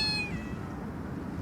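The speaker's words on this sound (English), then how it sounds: "Look at this cat." A cat gives a single clear meow that slides downward and fades, followed by quiet room noise.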